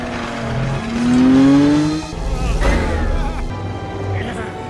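Race cars in the Cars 2 race roar past with rising engine whines and a sweeping pass-by. Heavy low rumble underneath, with narration running over the top.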